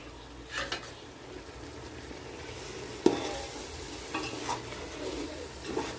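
Low, steady frying hiss with a few scraping stirs against a pot as pressure-cooked chicken for biryani is added and stirred, one sharper clink midway; no talking.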